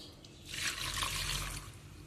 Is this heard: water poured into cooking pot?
yes